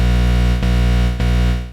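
A drum loop slowed to the lowest speed in the Kontakt sampler, turned into a loud, smeared, distorted drone with two soft dull thumps about half a second apart, no longer sounding like drums.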